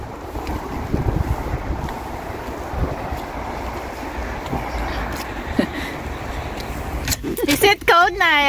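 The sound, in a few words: wind blowing outdoors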